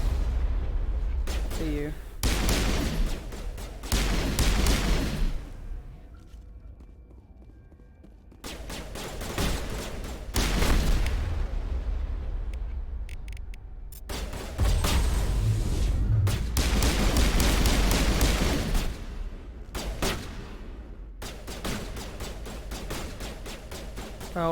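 Combat in the Mass Effect video game brings repeated bursts of rapid gunfire and heavy shots, loud and close, broken by short quiet gaps, with someone talking over parts of the fighting.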